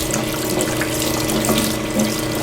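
Steady running water from a tap in a studio sink used for gum bichromate printing, a continuous close hiss and splash with a faint hum underneath and no speech.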